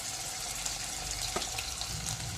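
Ginger-garlic paste frying in a pan with potatoes and fenugreek seeds, a steady, even sizzle with a soft stir or clink partway through, close and alone.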